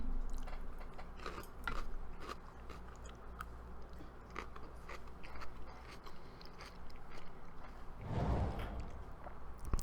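Close-up crunching and chewing of food by a streamer during a long charity stream: steady soft bites and crackles, with a louder chomping burst near the end.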